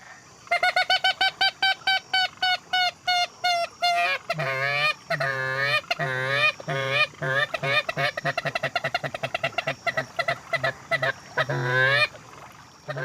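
A duck call is blown in rapid series of quacking honks, loud and close, with short pauses between bursts of repeated calls.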